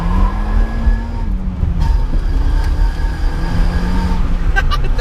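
Citroen Saxo VTS hot hatch driving along, a steady engine drone with a rising and falling pitch running close and loud throughout, plus faint road rumble and a few small clicks near the end.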